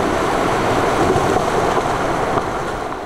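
A Land Rover drives into deep water, throwing up a big splash; a loud, steady rush of churning water fills the whole stretch without a break, with no voices.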